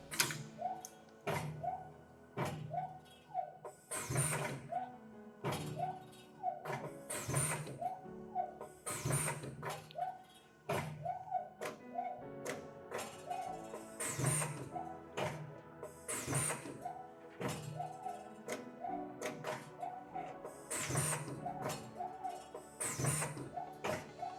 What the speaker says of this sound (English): So we're just going to go ahead and run that. As James was saying before, this machine runs a little bit faster than our benders.